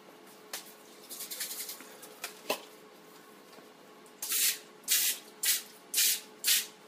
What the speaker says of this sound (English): be sure to spray them with Pam or you're going to have a heck of a time getting them out